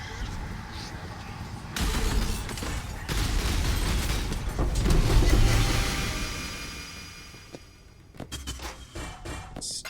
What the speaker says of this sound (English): God, the explosions are so neat looking.